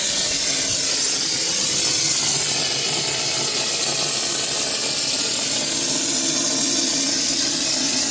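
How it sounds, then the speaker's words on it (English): A sprayer blows a thick plastic fake-rock texture coating onto a wall, making a loud, continuous broadband hiss and rush that runs unbroken throughout with no talking. "So we blow it on like this."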